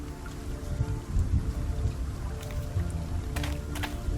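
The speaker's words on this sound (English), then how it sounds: "It's always raining." Steady heavy rain in a city scene of the World of Goo 2 video game, a dense continuous hiss with low rumble and a few sharp tapping drops near the end, no speech.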